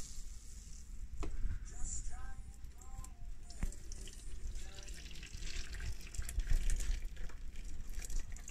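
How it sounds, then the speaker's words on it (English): Chaga mushroom tea strained through cheesecloth set in a strainer, giving a steady trickle and splash of pouring liquid that runs unbroken for several seconds with no talking. "Let's go ahead and strain it. I put cheesecloth in this strainer to catch some of the solids."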